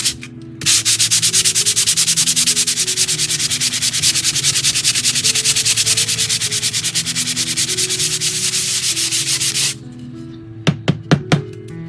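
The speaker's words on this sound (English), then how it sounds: "we're going to start sanding" Continuous rhythmic sanding of a 1:400 scale model ship hull, a coarse rasping scrub repeated rapidly for several seconds, close and loud, ending with a few sharp taps.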